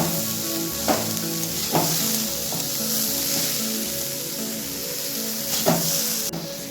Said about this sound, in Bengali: পরিমাণ মতন হলুদ গুঁড়ো আর 1 চা চামচ লঙ্কার গুঁড়ো। সবটাকে খুব ভালোভাবে এবার মিশিয়ে নেব।